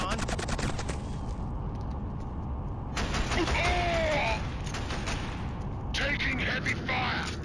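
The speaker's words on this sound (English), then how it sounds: "Taking heavy fire!" Heavy gunfire in the Killzone video game: loud bursts of automatic fire and sharp cracks come in clusters, with sound effects and shouting voices mixed in.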